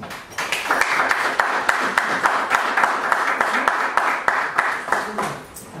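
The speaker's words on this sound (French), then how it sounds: "Si vous applaudissez" A ceremony audience honouring figures of African liberation claps, a steady wash of many hands in a dense, even rhythm throughout, close and fairly loud with no voices on top.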